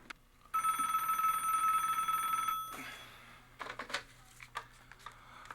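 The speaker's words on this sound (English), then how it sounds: "Dialing the police department." A telephone ringing after a call to the police department: one loud, steady electric bell ring lasts about two seconds, then cuts off and leaves faint clicks and handling noises.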